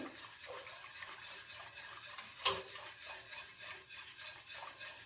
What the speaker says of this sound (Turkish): Şöyle güzelce ufaklanmamak için sürekli karıştıracağız.